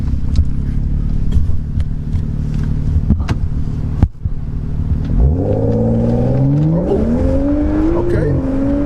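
A tuned BMW F30 335i accelerates hard, its engine note climbing steadily in pitch after a brief lull, loud and close from inside the car, with some talk from the occupants early on.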